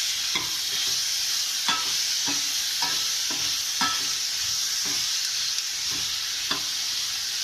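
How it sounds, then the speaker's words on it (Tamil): Tomatoes and onions frying in a pan give a steady bright sizzle, broken by repeated scraping strokes of a spoon stirring them at a slow, even rhythm. "இதை இப்போ நல்லா கிண்டி விட்டுடலாம்."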